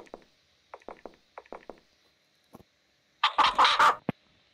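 Chicken sound, likely from the game Sakura School: several short clucking bursts in quick groups separated by pauses, then a louder, longer squawking burst ending in a sharp note, with no speech.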